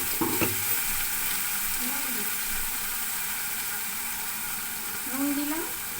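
Ground spice paste sizzles steadily in a pan while being stirred for a Bengali rohu fish malai curry, a continuous close frying hiss with brief stirring scrapes and a voice murmuring faintly.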